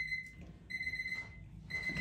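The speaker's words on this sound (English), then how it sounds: "let me just stop that timer" A timer alarm rings softly in a room, three short high-pitched electronic beeping bursts in a regular pattern, faint and alone.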